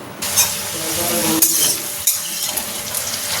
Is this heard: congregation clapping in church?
no